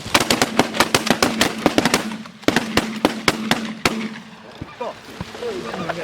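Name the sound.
shotgun shots while bird hunting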